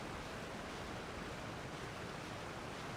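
Waterfall in Genshin Impact, a dense, steady roar of rushing water that fills the whole clip evenly with no breaks or voices.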